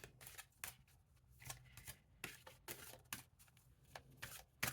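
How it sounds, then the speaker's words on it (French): Tarot or oracle cards are shuffled and a card is drawn, with soft, close riffling and slapping in an irregular series of bursts, fairly quiet throughout. "je tire vraiment la dernière carte de ce dernier tirage de l'année 2025"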